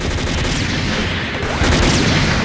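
Rapid machine gun fire from a mecha in the online game SD Gundam Online, a dense continuous burst of shots with crashing impacts that grows louder near the end.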